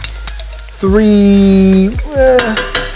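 Heaping spoons of tomato paste fry and sizzle loudly in a pan for a bolognese sauce, with a spoon scraping and stirring through it in several bursts and clinks of metal.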